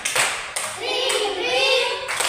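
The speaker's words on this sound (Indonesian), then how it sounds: "Tepuk terima kasih untuk Calvino." A classroom of children does a rhythmic thank-you clap for a classmate, several crisp unison bursts of clapping with children's voices chanting between them, close and lively.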